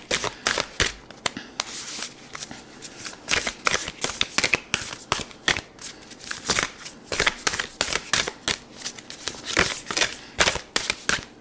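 Oracle cards shuffled by hand for a weekly tarot reading, a steady run of crisp riffling and flicking bursts that repeat in quick irregular rhythm, close and clear with no voices over it.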